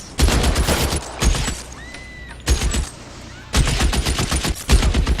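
Sniper and return gunfire in the video game L.A. Noire: four loud, dense bursts of rapid shots separated by brief lulls, with a faint electronic tone in one gap.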